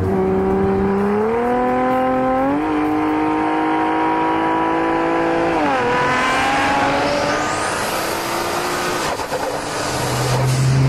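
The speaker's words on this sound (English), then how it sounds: "wastegate flutter and turbocharger whine." A 1400 hp AMS Performance Alpha 12 Nissan GT-R engine revs through several gear changes, its pitch climbing and dropping, with a rising high turbo whine and fluttering wastegate bursts as the throttle lifts.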